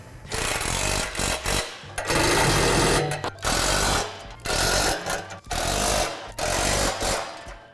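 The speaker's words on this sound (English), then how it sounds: "Now tighten all the hardware." Swing set hardware on a Lifetime 10-foot swing set is tightened with a power tool, in loud ratcheting bursts of about a second each separated by short pauses.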